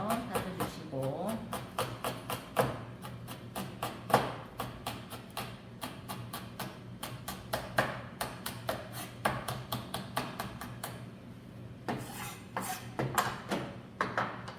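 A knife chops rapidly and steadily on a cutting board while two chili peppers are minced for spicy Korean dakgalbi, with dense, even taps that pause briefly near the end before resuming.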